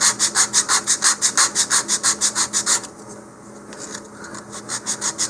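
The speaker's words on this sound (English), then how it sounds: "you can also do this by holding a piece of sandpaper on a block or even on a surface" Sandpaper on a block rubbed back and forth along a model rocket fin to taper it, a steady rhythmic rasping of about a dozen quick strokes, then softer, slower scraping; close and clear with no voices.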